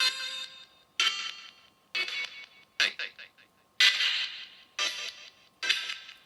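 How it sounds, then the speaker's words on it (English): A homemade spirit box sweeping through radio stations, giving short bursts of static and broken voice fragments about once a second, each cut off abruptly, close and fairly loud. "Now it's got to the end, it's just going to scan through those stations."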